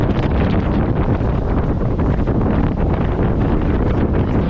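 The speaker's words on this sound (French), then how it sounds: "Ça y est, le vent est rentré." Strong wind roars without a break on a sailboat at sea off West Africa near Cape Verde, buffeting the microphone with a dense, loud rushing noise and no speech.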